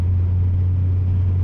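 Low steady engine drone inside the cabin of a Porsche 997 at low engine speed, a constant deep hum with road rumble beneath it and no voices.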